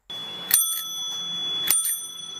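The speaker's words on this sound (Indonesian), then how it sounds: "Yang pertama, bunyi bel sepeda." A bicycle bell rings twice, clear and close, each bright ring fading out over a faint background hiss.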